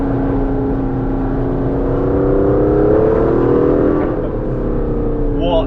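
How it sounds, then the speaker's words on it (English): Aston Martin DBS Superleggera Volante V12 engine in a convertible on the road, a loud steady drone with a rising swell of revs that peaks midway and eases, heard continuously with wind rush. "a V12 singing in the back."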